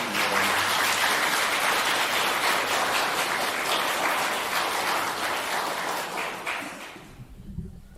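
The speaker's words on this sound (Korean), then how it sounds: "박수로 환영해 주십시오" A parish audience gives sustained, full-bodied applause to welcome a priest giving a lecture; dense clapping holds steady for several seconds, then thins and dies away at the end.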